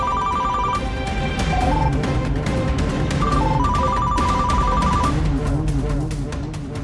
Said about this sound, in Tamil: தமனா, இரு, நான் போய் ஃபோன் பேசிட்டு வந்தேன்.